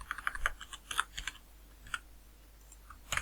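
Light, rapid keystrokes on a computer keyboard while coding JavaScript, faint and close, in quick irregular clusters with a pause before a final burst.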